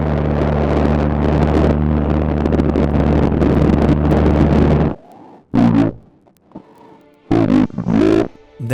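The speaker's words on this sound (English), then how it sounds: "Sounds like exhaust." A designed sci-fi film effect resembling vehicle exhaust: a loud, dense roaring rush for about five seconds, cutting off abruptly, then followed by several short, sharp bursts separated by near-silence.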